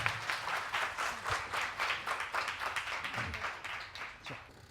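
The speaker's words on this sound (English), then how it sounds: "Please welcome our guest speaker with a huge round of applause." An audience at a college lecture claps steadily to welcome a guest speaker, a dense, even burst of applause that lasts throughout with no talking.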